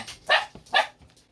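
Two sharp dog barks ring out close by, evenly spaced about half a second apart, with no talking over them.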